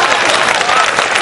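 Audience applause at a Hindi poetry gathering, a dense, steady roar of clapping that fills the whole short moment at close range without a break.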